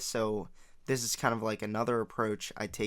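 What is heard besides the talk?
No distinct noise like a dog, phone or traffic.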